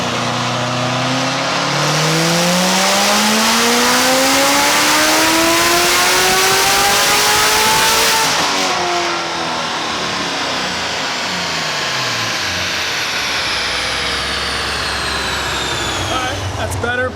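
Supercharged Corvette C7 Z06 engine revs hard and loud on a run, its pitch climbing steadily for several seconds before dropping off, then settling into a lower drone with blower whine, close and dominant throughout.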